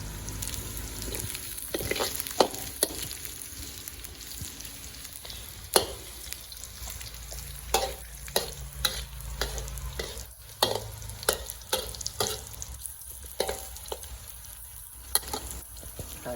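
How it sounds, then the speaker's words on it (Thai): Preserved radish and egg stir-fried in a pan, with a steady soft sizzle under repeated sharp scrapes and clacks of a spatula against the pan. "ก็ผัดไป สักพักหนึ่งนะครับ"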